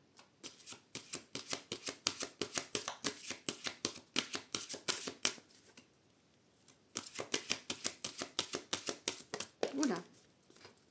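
An oracle card deck is cut and riffle-shuffled up close in two long bursts of rapid, even flicking with a brief pause between, then a short quiet spell with a little talk near the end.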